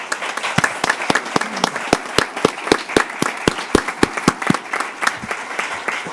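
Lively applause from a group at a school board meeting, many hands clapping in quick overlapping bursts that carry on steadily without any talking.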